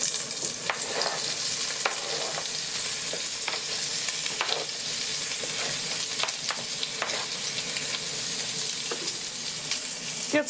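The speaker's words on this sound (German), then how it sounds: "Jetzt brate ich die Paprika auch noch in der gleichen Pfanne an." Bell peppers sizzle and crackle steadily in a hot pan, with the occasional clatter of a spoon stirring and scraping through them.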